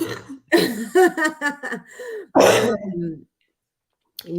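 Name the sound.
cough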